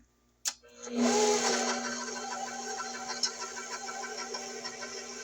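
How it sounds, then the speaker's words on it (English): A stand mixer on its first speed churns flour and heavy cream for a cream cheese pound cake: a sharp click at start-up, then a steady whirring motor hum with a faint rhythmic knock, close and alone. "you start your mixer in first gear"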